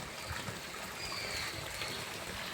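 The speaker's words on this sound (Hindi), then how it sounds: "देखिए, आप देख रहे हैं ये पानी आ रहा है" Water from a gaumukh spout runs into stone tanks at a Makardhwaj temple, a steady soft trickling and splashing that holds evenly throughout and sits faint against light background noise.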